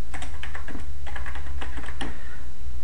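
Fingers tap commands into a router's command line on a computer keyboard, a close, loud run of irregular clicking keystrokes with brief pauses between bursts, no voices.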